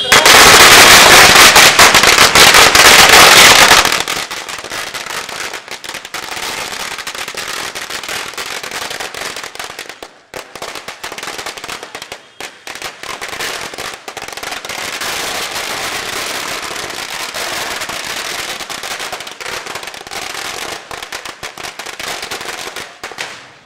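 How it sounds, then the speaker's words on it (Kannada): Firecrackers burst in a dense, rapid string of sharp cracks at a street celebration in Holenarasipur, loudest at the start, then continuing as a long, relentless crackling barrage. "ಪಟಾಕಿ ಎಲ್ಲ ಸಿಡಿಯುತ್ತೆ"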